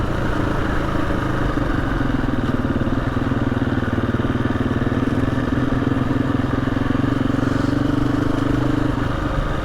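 A motorcycle engine runs continuously while riding a trail, a loud, close, steady drone with a rough mechanical rattle and a faint rise in pitch.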